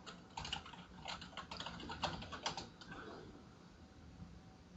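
Someone types a login on a computer keyboard, giving a short flurry of quick, fairly close key clicks that fade and stop after a few seconds, followed by quiet room tone.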